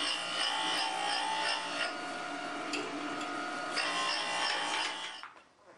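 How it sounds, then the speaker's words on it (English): A grinder hollow grinding a steel spokeshave blade with coolant, a continuous buzzing, hissing grind with slight shifts in pitch as the blade moves across the wheel, close and steady before fading out at the end. "we hollow grind both sides of the blade. This is the process here."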